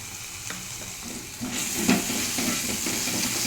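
Chili paste and ginger paste frying with poppy seed paste for aloo, jhinge and onion posto, a soft continuous sizzle that swells partway through, with scraping stir strokes over it.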